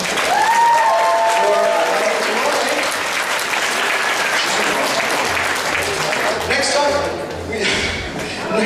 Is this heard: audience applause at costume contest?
yes